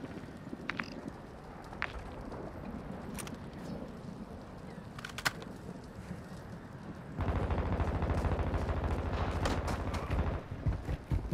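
Scattered gunshots crack through a Call of Duty: Modern Warfare II match, then a dense, sustained roar of rapid automatic fire takes over, loud and continuous, with no speech.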